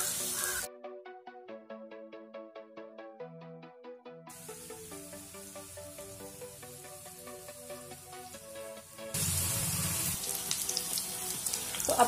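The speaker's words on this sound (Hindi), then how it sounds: "तो अब हम इसमें हमारे पीसेस रख देंगे। हमने इन्हें दोनों तरफ से हल्का ब्राउन होने तक पकाना है।" Vegetable pitor pieces frying in hot oil in a pan, a hissing sizzle that briefly opens, then surges loudly near the end, with melodic background music filling the middle.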